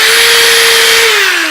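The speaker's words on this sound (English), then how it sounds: "you can reverse the drill, right?" A rotating drill tool shaping a guitar body, a loud, steady high-pitched whine that holds one pitch and then drops as it slows near the end.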